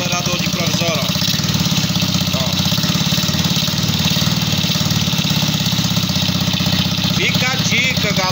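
Neo 115cc motorcycle engine fitted with a Yamaha YBR 125 carburetor idles with a steady, close, rapid putter throughout, while someone speaks over it.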